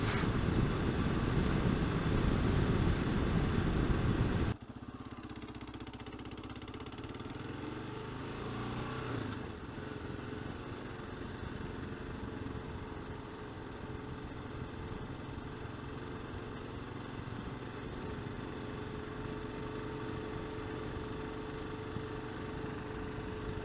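A Kawasaki KLR 650 single-cylinder motorcycle rides through the town of Bisbee, Arizona. A loud rush of wind and engine opens the ride, then a steady engine drone continues under faint road noise.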